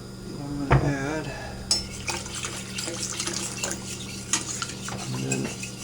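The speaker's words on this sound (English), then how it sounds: "We stir it up and everything." Hot kava drink being stirred in a pot, with a spoon scraping and clinking against the metal close up over a soft liquid swish and a few louder knocks.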